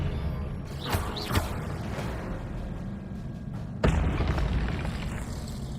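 Spells cast in the video game Hogwarts Legacy, including an Expelliarmus disarming spell, with loud whooshing magical blasts, a couple of sharp cracks early and a heavy booming impact midway over a dense game-sound bed.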